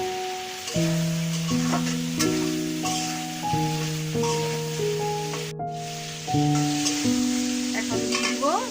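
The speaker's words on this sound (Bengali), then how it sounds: "মশলা কষানো হয়ে গেছে। এখন দিয়ে দিব চিংড়ি মাছ।" Prawns sizzle in cooked spice masala in a pan, a soft continuous hiss running beneath louder melodic background music throughout.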